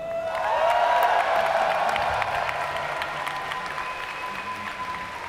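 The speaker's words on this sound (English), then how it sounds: "give a cheer for EGHuk." A StarCraft II tournament crowd applauds and cheers after a player introduction, a loud sustained wash of clapping with a few whoops that slowly fades over several seconds.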